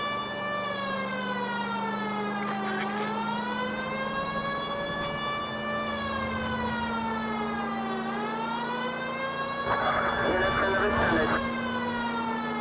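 A police car siren in the video game L.A. Noire wails steadily up and down in long rising and falling sweeps, loud and continuous over an engine hum, with a brief burst of noise near the end.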